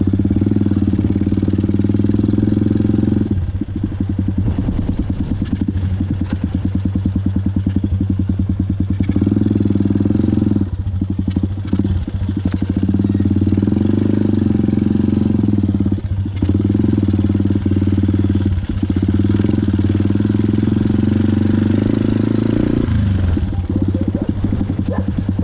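A big motorcycle's engine drones steadily while it is ridden along a muddy farm road, a loud, continuous low rumble with slight fluctuations in throttle lasting the whole stretch.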